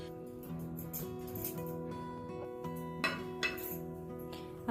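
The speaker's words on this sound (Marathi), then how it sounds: "आणि आता हे कुकरमध्ये ठेवून घेऊ।" An oiled tray holding sesame-topped cabbage vadi mixture is set into a pressure cooker, giving a few soft metallic clinks and clatters against a faint, steady background hum, with no talking.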